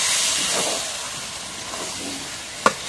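Mutton curry sizzles steadily as it is stirred in a hot pan with oil, a constant hissing sputter with a sharp clink of the spoon near the end.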